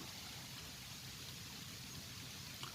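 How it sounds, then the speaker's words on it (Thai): Steady rain falling outdoors over a flooded bamboo garden in Sukhothai, Thailand, a continuous soft hiss with no break, fairly faint and heard without talk. "ตอนนี้ฝนก็ ตกลงมาอีกแล้วนะครับ"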